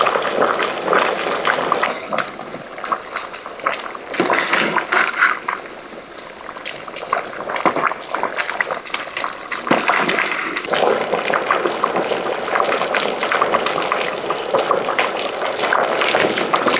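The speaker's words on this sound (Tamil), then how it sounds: "இப்போ நாங்கள் அரிசி வேகிறதுக்கு வேக வச்சுருவோம்" A pot of rice cooks in water for chicken biryani, giving a steady rolling bubble and hiss with liquid gurgles all the way through. No speech is heard.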